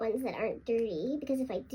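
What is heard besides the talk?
None of the usual background noises is heard.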